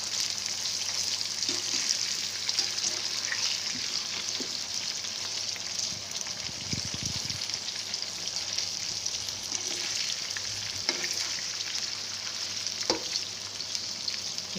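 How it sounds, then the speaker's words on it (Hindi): Bitter gourd (karela) pieces frying in oil in a pot, a steady soft crackling sizzle that runs the whole time at moderate level, with a few faint clinks and stirring bumps and no talking. "इसको अच्छी तरह फ्राई कर लूँगी"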